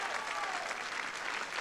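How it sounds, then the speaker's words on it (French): An audience applauds boxer Stéphane Ferrara at a Champs-Elysées television show in 1985, a brief wash of crowd clapping at moderate level with faint voices underneath. "C'est maintenant qu'il faut applaudir Stéphane Ferrara."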